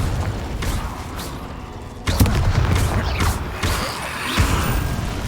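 Spell effects in the Hogwarts Legacy video game as Incendio and Confringo are cast at an Inferius, loud crackling blasts and explosive bursts, with a sharp impact near the middle followed by rumbling, fiery crackle.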